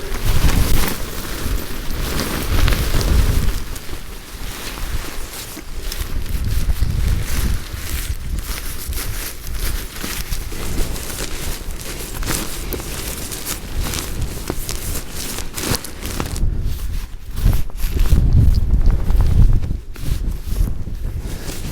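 Rain and gusting wind buffet an exposed campsite in fog, a steady loud wash of noise with rumbling wind blasts on the microphone throughout, no talking.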